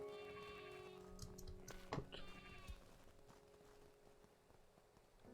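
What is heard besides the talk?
sheep bleating in the video game Craftopia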